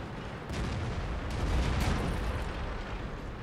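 Tank cannon fire in the World of Tanks video game: a few heavy blasts burst out of a dense, roaring battle rumble, loud and close, with no voices.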